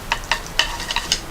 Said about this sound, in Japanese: ナポリタンって焼くんですよね。